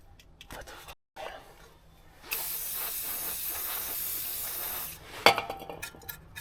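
Water spray rinsing dirt out of a rusty wheel hub on an 1980s Toyota truck, a broad steady hiss lasting a few seconds, preceded by scattered clatter and followed by a sharp knock.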